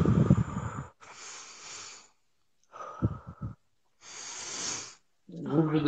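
A person breathes deeply in long, loud inhale and exhale bursts separated by brief silences, close to the listener, with a few short voiced breathy sounds in between.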